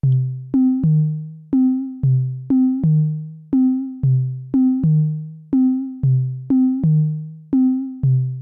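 A clean electronic drum loop from an Elektron Syntakt of short, sharp synthetic hits in a steady repeating rhythm, bright and dry, with no voices.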